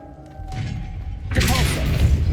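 A Revelio spell is cast in the video game Hogwarts Legacy, starting with a low hum and then swelling into a loud whooshing magical burst with shimmering tones that holds to the end.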